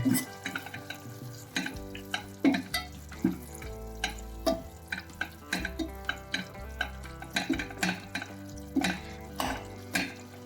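Radish leaves cooking over a very low flame in a pan with red chili, releasing water as they soften, with a spoon stirring and scraping in repeated strokes over a steady close sizzle.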